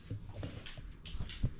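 Dogs whimpering and yipping softly at feeding time indoors, a few faint, scattered whines and small shuffling sounds.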